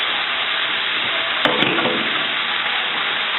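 Peas and ginger garlic paste frying in a pan for an Indian egg roll filling, a steady close sizzle throughout with a brief scrape of stirring partway through.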